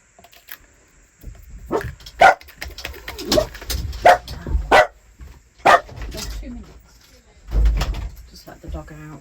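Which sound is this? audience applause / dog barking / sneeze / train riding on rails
dog barking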